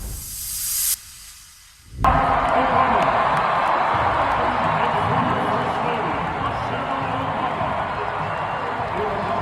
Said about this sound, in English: they received a standing ovation from the crowd